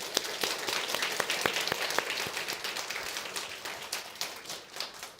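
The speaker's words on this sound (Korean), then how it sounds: "그들을 우리 박수로 환영하겠습니다" A church congregation claps steadily, a sustained patter of many hands at moderate distance that gradually thins toward the end.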